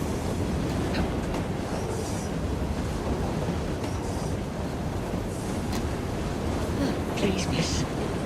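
A train rolls along its rails in the video game Assassin's Creed Syndicate, making a loud, constant rumbling roar with faint clatter and no pauses.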